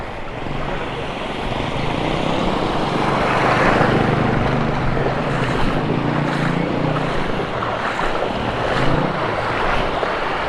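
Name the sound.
water gushing at high pressure from broken water pipeline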